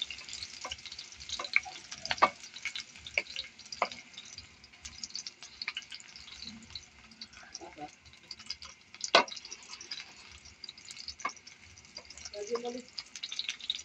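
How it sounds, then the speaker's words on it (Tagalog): Onion sautéing in a pan, a light crackling sizzle broken by scattered clicks and scrapes of stirring, fairly quiet and close. "muna itong igigisa itong ating bawang sibuyas."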